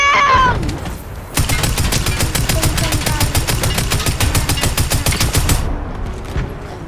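Rapid automatic gunfire in a video game, one loud, continuous burst of evenly spaced shots lasting around four seconds, with brief voices before and after.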